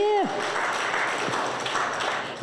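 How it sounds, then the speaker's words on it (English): Applause from a comedy club audience for a birthday guest, a brief wash of clapping at steady loudness, with a voice speaking over it at the start and end. "Give a round of applause to Curtis."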